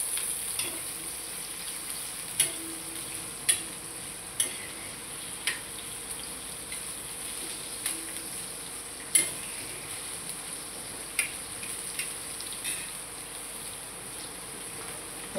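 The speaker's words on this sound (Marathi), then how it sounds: "कांदा जरा तव्यावर हलवते थोडासा" Sliced onion, two medium onions cut lengthwise, stirred and fried on a hot tawa, with a faint steady sizzle and light spatula scrapes at irregular intervals, quiet and close.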